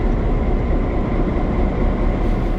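A tourist train with two engines rumbles steadily and loudly at close range, a continuous low mechanical drone with no breaks.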